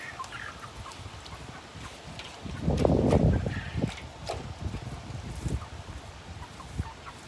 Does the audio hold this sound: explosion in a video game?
no